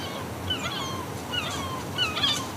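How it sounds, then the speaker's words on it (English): Seagulls calling in an outdoor setting, several harsh squawks and cries rising over a steady background hum, coming in bursts near the start, middle and end. "Seagulls freak everybody out."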